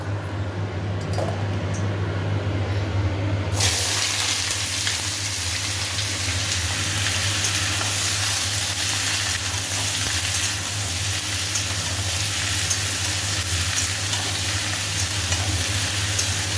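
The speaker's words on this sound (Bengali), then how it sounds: "আর এখানে ভাজা হচ্ছে" Vegetables with black cumin seeds fry in a pan, a loud, steady sizzle bursting in after a few quiet seconds and crackling continuously close up.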